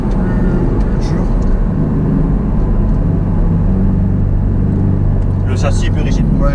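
A Porsche 718 Cayman's four-cylinder engine in sport mode drones loud and close from inside the car. The engine holds a constant rumble while people talk over it.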